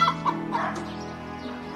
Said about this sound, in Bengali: সীমা, তোদের তো দেখছি অনেকগুলো মুরগি হয়ে গেছে